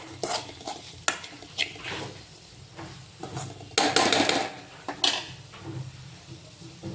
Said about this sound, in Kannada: ಇದನ್ನು ಕೂಡ ಎಲ್ಲ ಎಣ್ಣೆಯಲ್ಲಿ ಚೆನ್ನಾಗಿ ಫ್ರೈ ಮಾಡ್ಕೊಂಡ್ರೆ